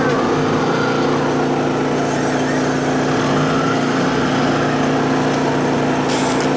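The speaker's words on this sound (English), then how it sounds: "Hit the main motor. he hit the big motor." Steady, loud drone of a bowfishing boat's main outboard motor running continuously at constant speed, close by, with no clear speech.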